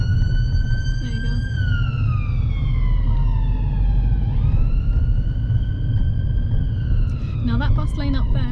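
A passing ambulance's wailing siren sweeps slowly down and then back up over loud road and engine noise heard from inside a car on a main road, with a quick yelping siren pattern at the end.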